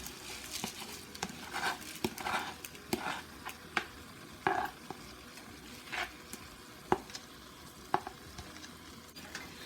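Parboiled rice is stirred in a cooking pot over low sizzling, with a spoon scraping and clinking in irregular strokes and light taps, quiet and close with no talk.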